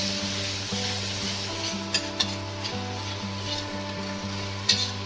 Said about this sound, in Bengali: ভালো করে আমি এটাকে নাড়াচাড়া করে কষিয়ে নেব।